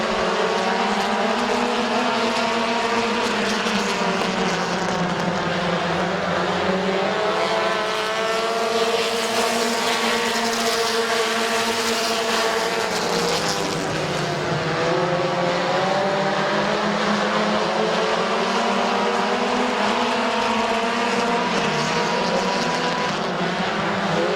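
Race cars roar off the start at Midvale Speedway, a loud, sustained engine drone with rising and falling pitch as the pack accelerates away, filling the whole stretch without a break.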